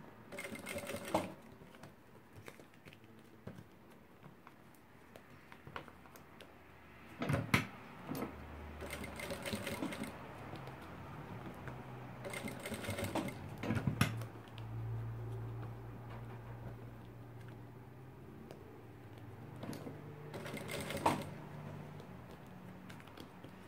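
A sewing machine stitches a plastic organizer, with short bursts of running stitches separated by pauses and quiet handling sounds, fairly faint and close.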